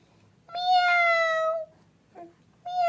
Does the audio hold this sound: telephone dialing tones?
no